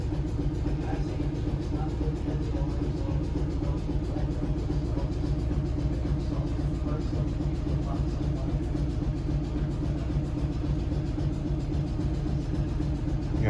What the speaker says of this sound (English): Listen to that pump. A bygone sound from yesteryear.